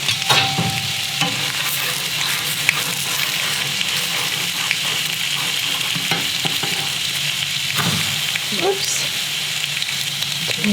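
Sausages fry in a pan greased with plenty of butter, making a loud, constant close sizzle with scattered clicks and scrapes of a utensil and a faint watery gush partway through.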